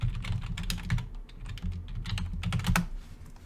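Typing on a computer keyboard to enter a street name into a map search, a close, rapid run of clicking keystrokes in uneven bursts, alone without talk.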